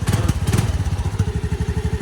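Honda Navi motorcycle engine idling close up with a freshly installed aftermarket exhaust, a loud, steady, throbbing putter of rapid regular pulses that stays even for the whole clip.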